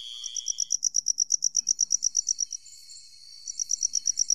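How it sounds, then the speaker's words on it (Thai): A cricket chirps in rapid, evenly spaced high-pitched pulses in a forest setting, a steady run that pauses briefly before resuming, fairly close and clear over quiet surroundings. "นี่เสียงจิ้งหรีด"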